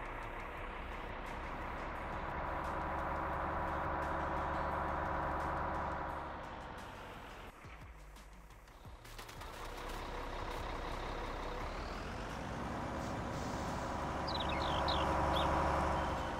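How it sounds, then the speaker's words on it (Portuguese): A heavy truck engine in Farming Simulator 19 rumbles loudly and steadily, dips briefly, then revs back up, with a few faint high beeps near the end. "Então deixa eu tirar o caminhão de lá pra colocar o outro."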